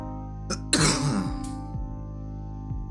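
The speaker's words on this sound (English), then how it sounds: "Excuse my cough." A single throaty cough, close up, with a brief exhale before it and faint shuffling afterward.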